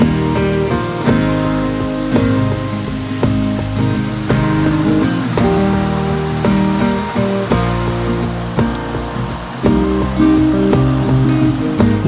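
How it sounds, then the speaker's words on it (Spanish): Steady rushing water pours continuously with a full, roaring wash, loud and close throughout. "a orillas de una bonita cascada"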